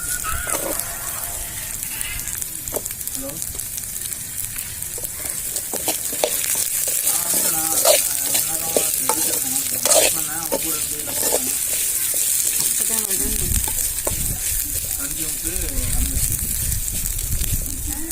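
Onions sautéing in a pan for South Indian kara chutney give a steady, close sizzle broken by scraping stirs, with a voice talking over the cooking now and then.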